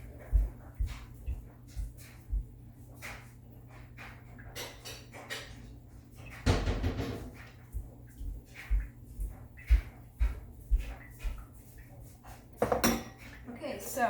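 Dishes and cutlery clatter in a home kitchen as a dish is grabbed, with scattered knocks and two louder crashes of crockery amid quieter handling sounds.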